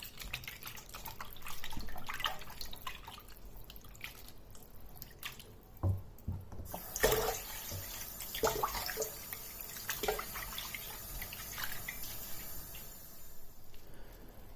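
Water dripping and trickling as chilled wild garlic leaves drain, with scattered drips and splashes over a steady low wash, including a sharper splash midway.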